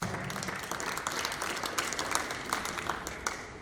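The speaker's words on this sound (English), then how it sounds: "A round of applause." Audience applauding a contestant at a televised spelling competition in Abuja, a fairly faint, steady patter of many hands clapping with scattered sharper claps.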